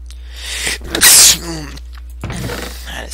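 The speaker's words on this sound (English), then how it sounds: "Sneeze." A single sharp, loud sneeze bursts out close to the microphone, preceded by a brief intake of breath and followed by a short voiced sound, with a steady low hum underneath.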